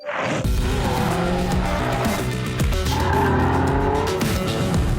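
A Prodrive P2 sports car, a Subaru Impreza-based prototype, drives hard with its engine revving loudly and tires squealing and skidding through corners, continuous and close throughout.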